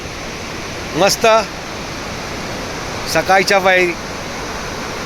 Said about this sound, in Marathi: आपण पाहत आहात मार्लेश्वरचा धबधबा आणि तेथील वातावरण किती सुंदर आहे